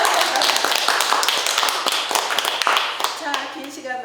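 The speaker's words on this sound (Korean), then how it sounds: "그분을 위해서 우리 한번 박수 한번 쳐드릴까요?" Audience at a traditional market's rose festival event claps hands for several seconds, a dense patter of claps with a speaking voice over it.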